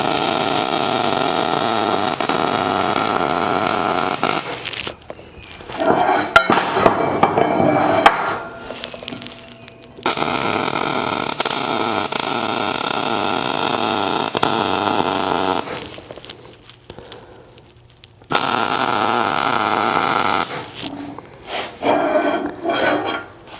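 Plug welding on steel shock hoops, a loud close crackling buzz of the welding arc in sustained bursts several seconds long, separated by short pauses with scraping and clatter between passes.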